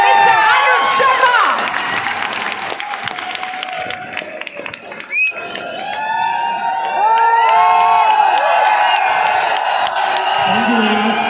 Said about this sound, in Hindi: दोनों हाथ ऊपर करके जोरदार तालियां